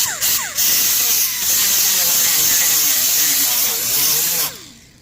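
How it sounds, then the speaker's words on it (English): An angle grinder grinds down rock-hard body filler on a service truck: a loud, continuous harsh whine with wavering pitch, close by, tapering off at the end. "this stuff is rock hard now, so we'll take our angle grinder"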